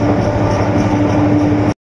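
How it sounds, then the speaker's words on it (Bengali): A train rolls slowly along the railway through hilly country, giving a steady, loud rumble of wheels and carriages with a sustained tonal hum, continuous for the whole stretch before cutting off abruptly. "এই যে ট্রেন চলতেছে স্লো গতিতে"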